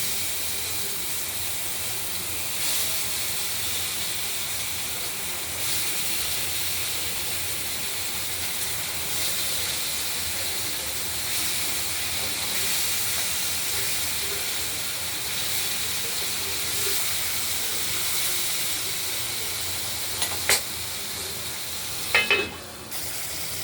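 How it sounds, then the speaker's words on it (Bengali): Pieces of boal fish frying in hot oil: a loud, even hiss and sizzle that holds steady throughout, with a couple of brief clatters near the end. "বাকি মাছগুলো ভেজে নেব"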